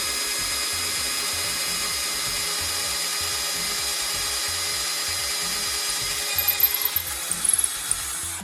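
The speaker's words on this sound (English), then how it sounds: "So now we can drill." A power drill whines steadily as it bores into the wood of a thrift store furniture piece, with a rhythmic grinding pulse throughout and a few clattering bits near the end.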